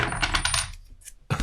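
Two large metal flat washers tumble out of a small cup cut from real bamboo, giving a quick burst of bright metallic clinks and rattles, then a pause and a final clatter as they settle.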